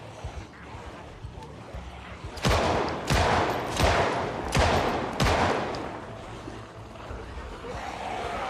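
Pistol gunfire in a video game: about five sharp, evenly spaced shots ring out in quick succession, loud and close, over a low background hum.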